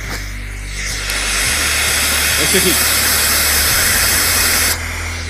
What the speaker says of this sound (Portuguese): Eu tenho certeza absoluta que o seu cérebro é igualzinho esse potenciômetro aqui, ó. Ó. Fica só chiando enquanto eu tô falando.